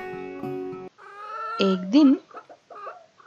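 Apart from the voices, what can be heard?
hen clucking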